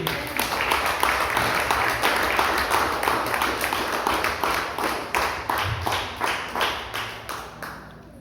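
A church congregation claps together in steady rhythmic unison, loud and close, with a faint voice under the clapping and the beat tapering slightly near the end.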